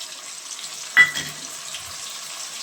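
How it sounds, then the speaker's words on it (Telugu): Tomato paste dropped into a pan of fried onions for a flat bean curry, a single soft plop followed by brief stirring and scraping, then a quiet low sizzle beneath. "టమాటా పేస్ట్ వేసి బాగా కలపాలి, అడుగున మాడకుండా కలిపి"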